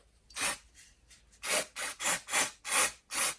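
Brake cleaner sprayed onto a cast iron housing in short hissing bursts, a faint first spray followed by five close, loud, evenly spaced blasts of roughly a third of a second each.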